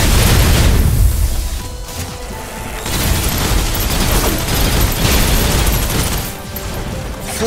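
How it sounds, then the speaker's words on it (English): Loud suppressive gunfire from a Snowbreak Containment Zone boss fight: dense, booming bursts of shots and impacts that swell and ease in waves throughout, with mechanical clatter mixed in. "Suppressive fire."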